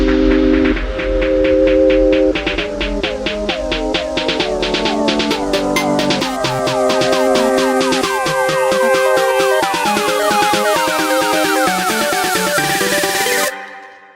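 A synthesized riser for a music track builds steadily over about thirteen seconds, dense layered tones and rapid pulsing stepping upward in pitch and brightness, loud throughout, then cutting off abruptly near the end.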